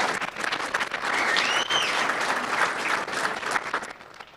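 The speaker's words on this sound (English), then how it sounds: "Give him one more round of applause for the Student Success Coach." Sustained audience applause fills a performing arts center hall, a steady dense wash of many hands clapping for the full stretch with a few whistles rising briefly above it.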